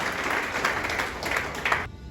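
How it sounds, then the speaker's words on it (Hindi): A crowd at a resort celebration for loyalty achievers claps steadily, with a few sharper bursts standing out before the applause cuts off abruptly near the end. "आज जितने अचीवर लोग यहाँ खड़े हुए थे उनके लिए एक बार ताली तो बनती है।"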